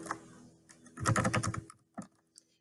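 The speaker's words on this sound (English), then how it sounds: "Oh, if I could type better, it'd be great." Fingers type on a computer keyboard in quick clustered bursts of clicks, a dense flurry followed by a few isolated keystrokes, close and fairly quiet with no talking.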